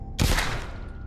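A single sharp gunshot from The Walking Dead VR Saints and Sinners video game, loud and close, with a short decaying tail.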